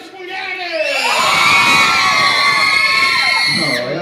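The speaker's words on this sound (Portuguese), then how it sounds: "grito das mulheres!" Crowd of women in a circus audience scream and cheer loudly, a sustained shrill wave of shouting that swells and holds for several seconds.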